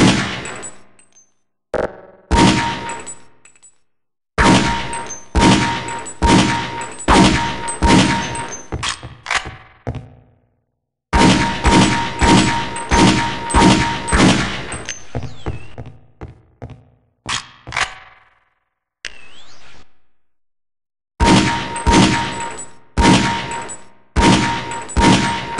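Pistol fire at targets on a boot camp firing range in Half-Life: Opposing Force: loud, sharp shots in rapid runs, each with a metallic ring, separated by short pauses and a few longer silences.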